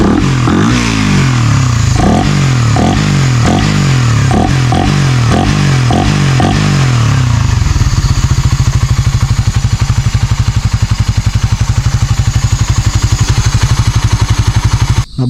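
A Suzuki Raider 150 Fi motorcycle engine blips and revs in a series of short bursts, then settles into a steady, loud idle rumble close by.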